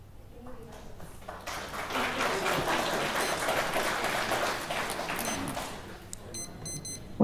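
Applause breaks out from the audience at a Claremore city council meeting, a sustained round of clapping that builds and holds for several seconds before fading, with a few electronic beeps near the end.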